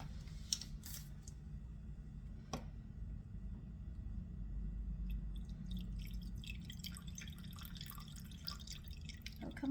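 The last of a bottle of lemon juice drips out in faint, sparse drops, quiet and close, over a low steady background hum.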